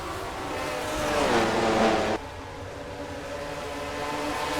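Stock race cars roar around a track in a NNSCRA Mello Yello Racing Series race, a Buick and a Pontiac among them, engines swelling loudly as the pack passes and then settling into a steady drone.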